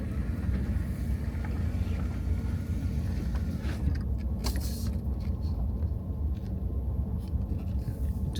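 A car towing a trailer over a potholed road: steady low rumble of engine and tires with scattered bumps and rattles, fairly loud and continuous.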